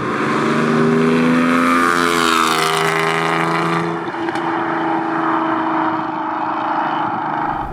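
A TVR Tuscan S sports car roars loudly on the road, its engine note rising through the revs before a gear change and settling into a sustained, thunderous drone from close by.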